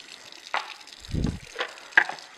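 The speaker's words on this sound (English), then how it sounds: "Take off the cap here, rinse it off." Tap water splashes briefly over a juicer's plastic pulp regulator being rinsed, a short quiet gush between small clicks and handling knocks, close by with no talk.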